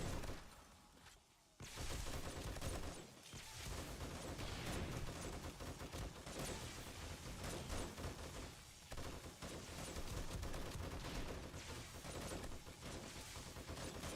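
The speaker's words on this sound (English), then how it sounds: "get out here and start shooting these baddies" Dense, continuous gunfire while shooting zombies in the game 7 Days to Die, rapid loud bursts running almost unbroken, pausing briefly near the start and again a few times, with no voice over it.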